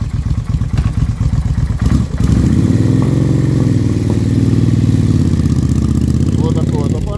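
Kawasaki VN1500 Vulcan motorcycle engine chugs at idle, then the revs rise and the big V-twin runs with a deep, loud, steady throb close by as the bike pulls away.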